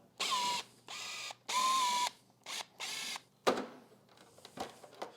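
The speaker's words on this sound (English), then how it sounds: "Looks like 4 Phillips here we need to take out." Phillips screws are backed out of the windscreen on a Yamaha R7 motorcycle with a ratcheting screwdriver, giving several bursts of steady clicking ratchet noise with short pauses between them, followed by softer handling clatter.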